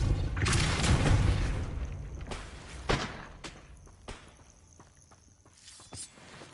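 A Depulso spell in Hogwarts Legacy lands as a heavy rumbling blast, then gives way to several sharp separate thuds and knocks that grow fainter.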